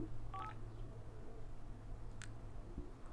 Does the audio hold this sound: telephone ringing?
yes